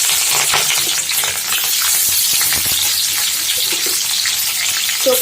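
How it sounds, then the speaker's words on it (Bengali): Onion frying in hot oil in a kadai, a steady loud sizzle with crackling bursts and light clinks running throughout. "তো আমি এখন কড়াইতে তেলের মধ্যে দিয়ে দেবো পেঁয়াজটা"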